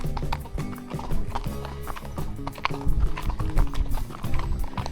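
Horses clip-clop steadily along a trail on a cool, drizzly day, hooves close and continuous over a rustling outdoor background, with no one speaking.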